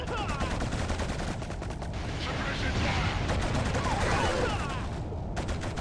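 Dense gunfire from a first-person shooter video game, with rapid bursts and a continuous rattle holding steady throughout, loud and close under a busy battle mix.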